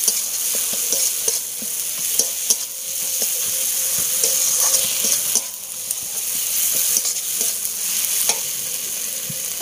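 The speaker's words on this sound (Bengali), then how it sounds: "দিয়ে আমি মশলাটাকে ভালো করে কষে নেব।" Spice masala with turmeric fries in a pan, a loud continuous sizzle and hiss with irregular scraping taps of a spoon stirring, close and alone without talk.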